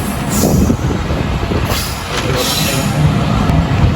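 A delayed train pulls out of a railway junction beside a long freight train, rumbling steadily with wheel squeal and rolling rail noise, close and loud with no voices.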